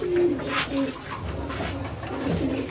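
Pigeons for sale at a busy bird market coo in low, rolling calls, close and fairly loud, over a steady wash of crowd and market noise.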